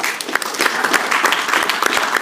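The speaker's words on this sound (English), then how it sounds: "give her a round of applause" An audience at an entrepreneurs' event gives a short, steady burst of hand clapping, close and fairly loud, with no voices over it.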